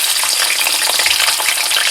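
Potatoes fry in a pan with a loud, close, continuous sizzle and crackle, plus light stirring textures throughout and no voices.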